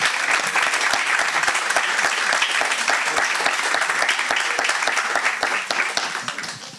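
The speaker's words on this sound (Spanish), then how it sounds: "les pido que recibamos, como sabemos hacerlo en este centro universitario, con un fuerte aplauso a nuestro invitado del día de hoy" Strong audience applause for a guest speaker at a university cultural heritage seminar, dense continuous clapping from a large room that holds steady for several seconds before tapering off at the end.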